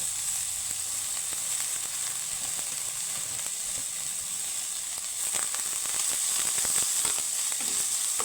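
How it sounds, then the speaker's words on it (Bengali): Chopped onion frying lightly in a pan with a little oil, a steady close hiss of sizzling with scattered crackles and pops that grow busier toward the end. "পেঁয়াজটা হালকা ভেজে আমি আলুর সাথে মিক্স করে নেব"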